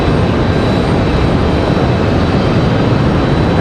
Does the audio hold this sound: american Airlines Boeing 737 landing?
yes